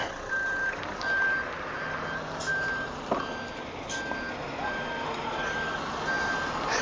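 A truck backing up along a road where it cannot turn around sounds its reversing alarm, a regular train of evenly spaced beeps over a low engine rumble, moderately near and steady throughout.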